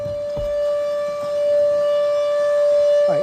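A steady, sustained dam water-release warning siren holds one droning tone, heard from a distance with faint background noise.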